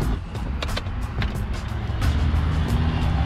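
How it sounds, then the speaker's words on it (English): A Toyota Tacoma truck's engine is started back up and idles with a steady, close low rumble, with a few short clicks and taps above it and no talking. "I'm gonna turn the truck back on"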